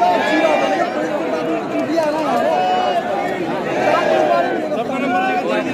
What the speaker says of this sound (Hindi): बहुत भीड़ है भाई, बहुत भीड़ है।